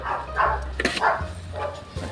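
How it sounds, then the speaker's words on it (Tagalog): Several dogs bark outdoors at a moderate distance, giving a quick run of sharp barks and yips over a low, steady background hum. "Nag-iingay yung mga yung mga aso."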